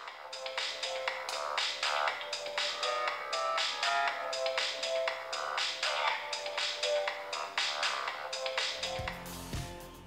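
A ringtone plays from the loudspeaker of an Umi Super phone as a bright, rhythmic electronic melody. The tone is close and fairly loud, steady for most of the stretch before ending abruptly with a brief handling noise.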